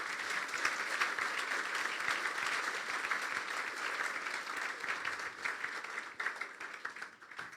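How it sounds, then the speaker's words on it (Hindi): A church congregation gives loud, sustained applause for Jesus during a Hindi-language sermon, many hands clapping together before the sound fades near the end. "यीशु के लिए जोरदार तालियां बजाएं।"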